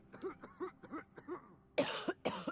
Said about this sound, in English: Oh, don't cough on me.